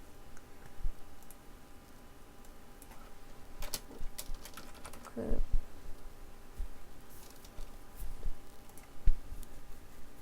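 A computer keyboard is used with key presses such as Ctrl and Shift, giving sparse, faint clicks and taps scattered across a quiet room background, with a few slightly louder presses near the middle and end.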